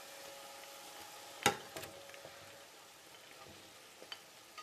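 Bacon and chorizo go into a pan with nearly cooked onion, giving a quiet, steady sizzle with one sharp clatter and a few faint scraping stirs.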